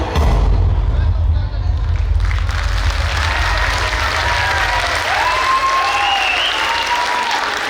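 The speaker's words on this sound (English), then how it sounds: "A huge round of applause for our performance, for this inspiring performance highlighting the women empowerment." Audience applause fills a hall at a school annual function after a student performance, dense continuous clapping from start to finish, loud and close, with faint voices and whoops rising within it.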